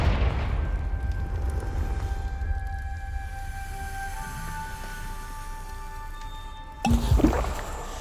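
A Confringo spell in Hogwarts Legacy ends in one sharp, loud explosion near the close, after a long stretch of low rumbling game ambience with faint tonal hums.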